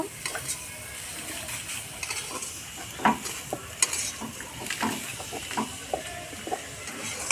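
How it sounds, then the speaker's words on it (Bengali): Milk being stirred little by little into soft bread with coconut for dudh puli, heard as close, soft spoon scrapes and wet stirring against a pan with a faint background hiss and no talking. "আমি অল্প অল্প করে দুধটা মিশিয়ে নেব"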